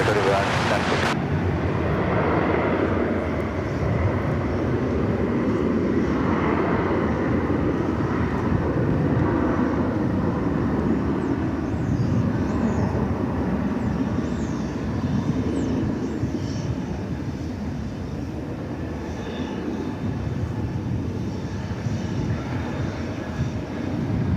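A Boeing 757 at DFW Airport, a broad, steady jet engine roar held at a distance for the whole stretch while a voice talks over it.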